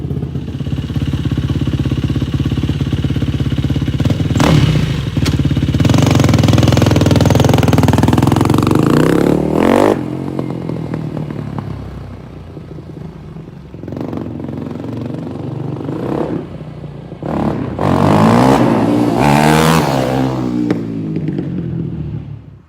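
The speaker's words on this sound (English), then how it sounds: "I got the quad running down there" A quad (ATV) engine runs and warms up nearby, its steady loud rumble shifting in pitch with revs and a few clattery surges, no talk over it.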